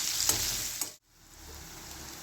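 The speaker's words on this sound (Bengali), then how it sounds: "পেঁয়াজটাকে খুব ভালো করে ভাজতে হবে" Finely chopped onions fry in a pan, a close crackling sizzle that cuts out briefly midway, then returns steadily.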